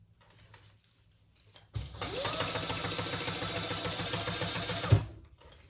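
Sewing machine top stitching the trim of a fabric train case: after quiet handling noises it starts up and runs in a fast, steady mechanical chatter for about three seconds, then stops with a soft thump.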